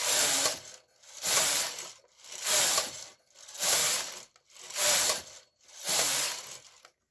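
A knitting machine carriage runs back and forth across the bed, six rhythmic whooshing, clacking passes of about a second each, loud and close with brief pauses between rows.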